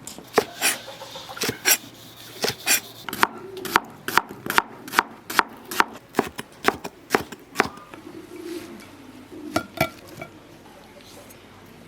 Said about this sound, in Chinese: 准备点配料：蒜苗、洋葱、红辣子。 现在把这些都切一下。